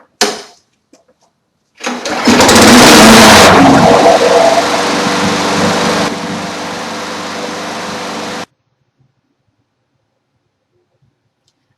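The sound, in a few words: lawn mower engine cranking up and running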